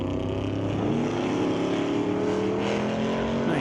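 A 1955 Mercury drag car launching hard with wheels up, the engine roaring loud and steady, its pitch climbing as it pulls away down the strip.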